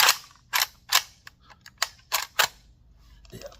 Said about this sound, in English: Push that up, pull your bolt back, locks the bolt.